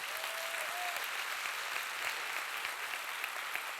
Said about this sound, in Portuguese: Quem pode dar um aplauso ao Senhor Jesus Cristo?